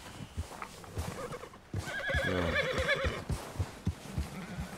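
A white Arabian horse in Red Dead Redemption 2 gives one loud, drawn-out whinny in the middle, framed by soft hoof thuds and shuffling before and after.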